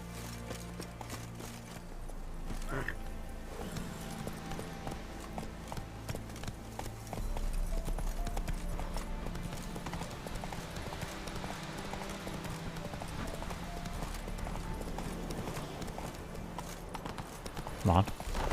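Hooves of Roach, the horse in The Witcher 3, clip-clopping steadily in a game scene, with a player's voice talking over the rhythmic hoofbeats and game ambience throughout.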